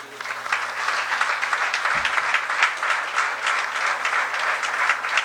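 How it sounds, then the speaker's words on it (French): Sustained applause from a crowd, a steady dense patter of many hands clapping at moderate volume for several seconds. "Avec un tonnerre d'applaudissements,"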